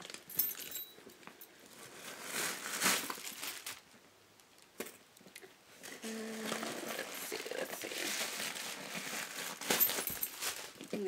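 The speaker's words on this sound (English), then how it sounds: "I'm gonna take the paper out and see if you can see the inside." Paper stuffing is crumpled and pulled out of a Lady Dior purse, with soft, close crinkling and rustling that comes in irregular bursts over about eleven seconds, fairly quiet, with no talk.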